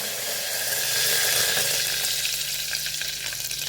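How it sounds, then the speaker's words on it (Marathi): Curry leaves and peanuts sizzle in hot oil for an Indian tempering, a steady close crackling fry that swells briefly then settles, with no talking. "फोडणीमध्ये आपण आता सर्व वस्तू घालून घेऊ म्हणजे कढीपत्ता घातला"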